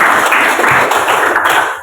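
A Grade X vocational high school class claps together, a dense, steady round of applause that stays loud and close for about two seconds before easing off at the very end.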